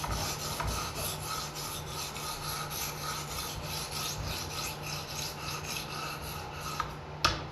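A knife is stroked repeatedly against a sharpening stone in rapid, even rubbing passes. The rasping is close and continuous, ending with a sharper scrape, and no one speaks.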